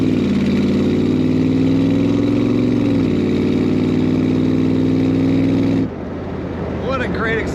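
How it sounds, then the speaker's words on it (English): A 1966 Shelby Cobra replica with an automatic transmission and side-exit exhaust pipes rumbles loudly at a steady, throaty idle. Near the end the engine note drops away and a voice begins speaking over the quieter exhaust. "What a great exhaust sound from these side pipes."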